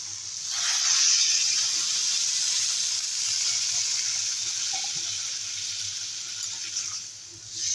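Broth poured into a boal fish curry bubbles and sizzles steadily in the pan, a continuous bright hiss that stays fairly even before easing briefly at the end.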